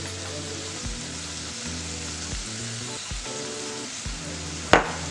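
Soy sauce poured into a hot pan, giving a steady, even sizzle with frying crackle throughout and a brief sharp clink near the end, no talking.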